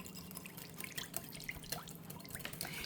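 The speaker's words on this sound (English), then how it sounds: "I have a 1/2 can of water here that I'm adding to it" Half a can of water is poured into a bowl of cream of chicken soup, a faint, continuous trickle with scattered drips and splashes, close by and without speech.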